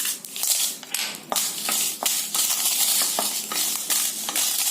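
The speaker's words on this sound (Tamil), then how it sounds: "இந்த எண்ணெயில இந்த மிளகாய் வறுத்துக்கலாங்க." Red chillies frying in a little oil in a pan crackle and sizzle, broken by sharp clicks and scrapes of a spatula knocking against the metal in an irregular rhythm.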